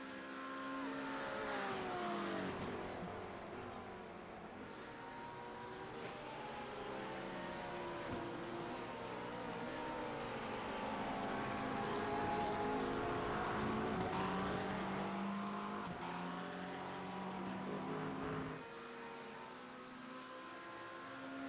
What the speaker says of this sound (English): Traction control kicking in. Numerous stabs at throttles from both of them.